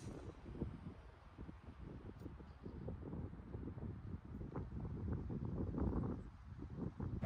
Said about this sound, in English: the wind is just coming in strong